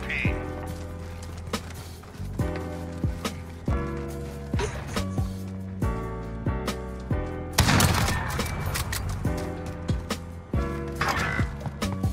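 Gunfire in the video game Call of Duty, Cyber Attack mode, with repeated sharp shots and bursts over a continuous music bed, loud and busy throughout, alongside some speech.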